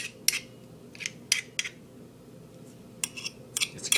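Short metallic scrapes and clicks of a fork scraping garlic off, in irregular bursts of two or three strokes over a low steady background hum, close and fairly quiet.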